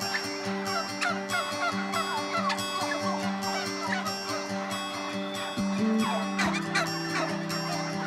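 Farm turkeys gobbling and clucking in a dense, continuous flock chorus, with repeated gobbles layered over a steady low drone, near and fairly loud, no talk.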